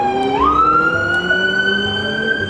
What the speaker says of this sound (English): is this ambulance gonna get through?